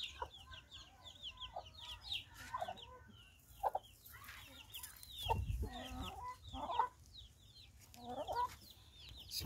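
Free-range speckled caipira chickens cluck and chatter softly on a farm, several birds calling in short irregular bursts with an occasional louder squawk, fairly faint and close with no talk.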